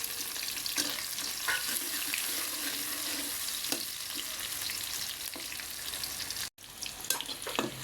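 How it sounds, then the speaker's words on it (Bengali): Onions fry in a pan toward light brown, a steady close sizzle broken by occasional stirring scrapes and a brief dropout near the end. "পেঁয়াজগুলো ভাজা ভাজা করব"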